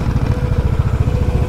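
Up close, a Royal Enfield Bullet motorcycle engine ticks over at idle, giving a deep, regular chugging thump that stays loud and even throughout, with nobody talking.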